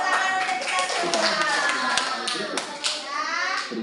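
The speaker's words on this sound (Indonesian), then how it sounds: "tepuk tangan untuk kita semua" A classroom of students bursts into scattered, lively hand clapping, with children's voices chattering and calling out over the applause throughout.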